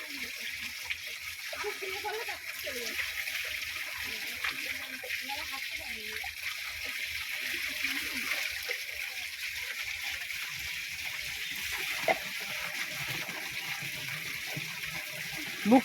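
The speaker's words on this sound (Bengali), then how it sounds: "এই যে স্নান করে রংটা তুলছি খুব কষ্ট খুব কষ্ট" Water running and splashing during a bath to wash off Holi colour powder, a steady wash of flowing water throughout with someone talking over it.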